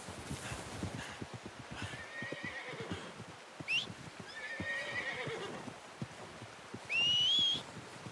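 A horse in the Red Dead Redemption 2 hunting game whinnies and snorts in a few bursts over a steady run of hoof clip-clops, with a sharp high whistle-like neigh near the end.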